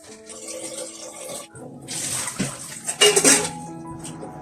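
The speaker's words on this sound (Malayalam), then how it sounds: "ഇതാണ് നമ്മുടെ കലം." Someone handles a cooking pot for rice in a home kitchen, producing metallic clanks and scrapes that grow into a louder burst of clattering near the end.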